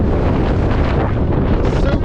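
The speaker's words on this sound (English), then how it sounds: "It's too fucking windy, man." Strong wind on an exposed ridge line of Skiddaw buffets the microphone in a continuous loud, rumbling roar with no pauses.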